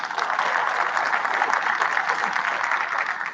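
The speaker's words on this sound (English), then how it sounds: "So another round of applause for Marino." Steady, dense applause from a conference audience at a DevOpsDays event in Raleigh, a continuous even wash of clapping held at a constant level with no voices standing out.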